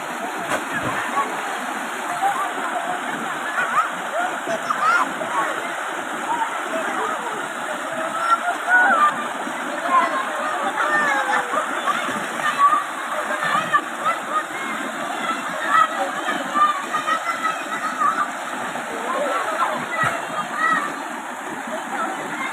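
Swimmers jump into water at Lalol Cave in Candelaria, Zambales, with steady rushing, splashing water throughout and voices calling and chattering in the background.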